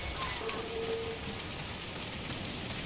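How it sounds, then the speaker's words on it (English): Heavy rain in the video game Dragon Age: Inquisition, a steady, dense hiss of falling rain that is constant and fairly soft, with no talk over it. "This rain is so loud"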